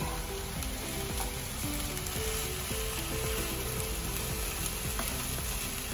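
Greens frying and being stirred in a pan, a soft continuous sizzle with scattered scraping and stirring clicks, faint and close; no talk.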